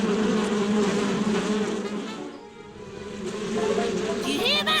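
A swarm of cartoon bees buzzes loudly and continuously up close, with a steady droning hum that swells and dips slightly over several seconds.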